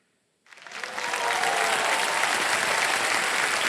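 Studio audience on the KBC game show bursts into applause after a brief silence, building quickly to a loud, steady, dense wash of clapping that continues without talk.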